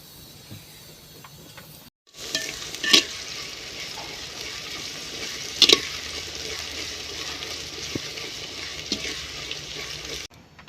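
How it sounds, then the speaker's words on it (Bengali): Mustard oil hitting a hot clay handi pot while cooking handi chicken sets off a steady, fairly loud sizzle lasting about eight seconds, broken by two or three sharp pops, with no talking. "হাঁড়িটা গরম হয়ে গেছে এবার আমি হাঁড়িতে দিয়ে দেবো সরষের তেল"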